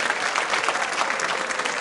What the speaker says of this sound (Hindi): तालियां बजाओ अभिनव जी के लिए जोरदार तरीके से।